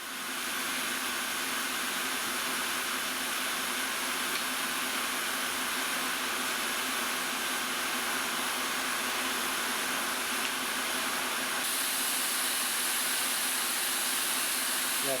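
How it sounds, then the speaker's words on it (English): A fly cutter works steadily on a milling machine in a home shop, its continuous whirring hiss holding level for the whole stretch with no talking and no breaks. "fly milling is one of those things you don't often do, but to get a really good finish, sometimes it helps"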